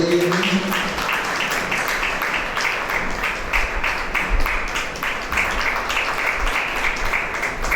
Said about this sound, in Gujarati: તો આપણે જોરદાર તાળીઓથી વધાવી લઈએ.